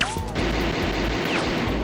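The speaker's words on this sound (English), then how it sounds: "Gunfire erupted as Snake was forced back, returning fire in retaliation" Dense, continuous gunfire with overlapping shots and crashes, loud and unbroken for the whole moment.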